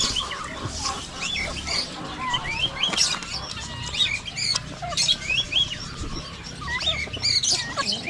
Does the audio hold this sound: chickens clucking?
yes